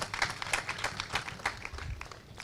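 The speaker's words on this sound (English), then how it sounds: "Can we clap for him?" A church congregation clapping at a Corpus Christi Mass, dense continuous applause from many hands, moderately loud and close, with faint voices mixed in.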